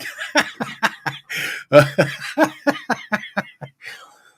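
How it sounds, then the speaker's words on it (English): A man coughs hard in a rapid string of harsh bursts, mixed with breathy laughter, close and loud. "coughing my lungs out, laughing here"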